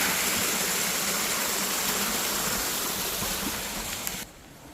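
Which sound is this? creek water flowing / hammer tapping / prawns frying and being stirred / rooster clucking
creek water flowing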